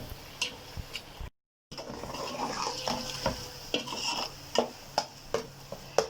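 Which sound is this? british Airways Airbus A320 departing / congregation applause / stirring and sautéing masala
stirring and sautéing masala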